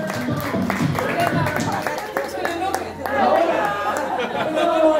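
Audience at a birthday clown show for adults clapping amid lively crowd chatter, scattered claps under voices that swell into fuller applause in the second half.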